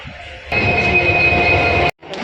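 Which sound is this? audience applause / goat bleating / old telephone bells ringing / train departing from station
train departing from station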